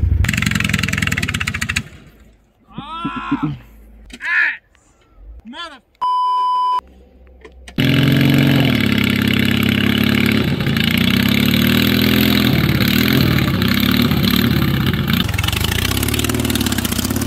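A Can-Am engine on a mud mower idles with a loud, rough, continuous throb and wavers in pitch. It follows a burst of talking and a short electronic beep, and keeps running alone to the end.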